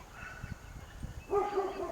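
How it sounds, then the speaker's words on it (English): A dog barks in alarm at a feral cat beyond a backyard fence, a few short muffled woofs followed by a louder, higher yelping bark, heard from a moderate distance outdoors. "causing this dog to bark, protecting its property"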